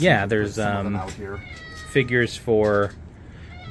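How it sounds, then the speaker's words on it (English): A house cat meowing insistently indoors, several drawn-out, rising meows in a row, heard alongside a person talking outside. "I'm sorry if you can hear my cat just meowing and meowing."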